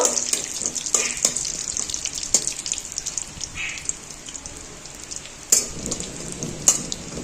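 Dried red chillies sizzling in hot oil in a wok as a tempering, a soft steady crackle beneath sharp clinks and scrapes of a spatula against the pan, fairly close and without speech.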